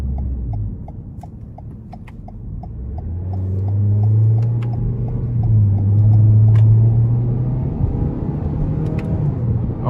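A 2021 Toyota Corolla SE Apex with a 2.0 non-turbo four-cylinder and CVT accelerating in sport mode, a low engine drone rising and holding steady from inside the cabin, with a rhythmic ticking, likely the turn signal, early on.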